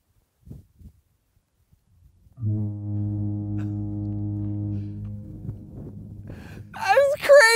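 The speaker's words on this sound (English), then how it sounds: "It took 11 seconds for the sound of the horn to get here." Distant horn blast arriving as a steady low droning tone that holds for several seconds and fades slowly, with faint background noise and people beginning to talk over its tail.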